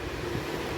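Dense, steady rumble and rattle from inside a moving suburban train on the way to T. Nagar, with continuous broadband noise and no talk.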